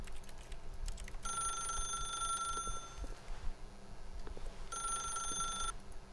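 A telephone rings in the video game The Stanley Parable, two bursts of bright electronic ringing over a steady low ambient hum, moderately loud and alone.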